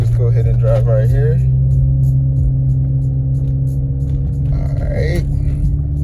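Audi car driving with a low steady engine rumble and road hum throughout, close, with someone talking briefly at the start and again near the end.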